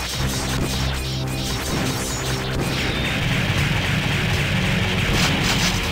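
Shotgun blasts and crashing impacts in the arcade game Metal Slug 6, heavy bursts packed within dense, loud game music and effects with no gaps of quiet.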